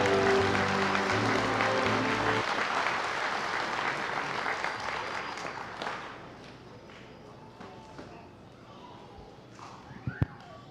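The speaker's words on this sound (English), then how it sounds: "Let's have another round of applause for not only our graduates present" A crowd claps loudly and densely for graduates at a university commencement ceremony, then the applause thins and fades over several seconds into a quieter hall with scattered claps and a sharp knock at the end.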